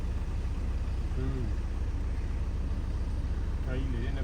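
A steady diesel rumble comes from a modified 4x4 tractor engine running nearby, with a voice speaking briefly over it twice.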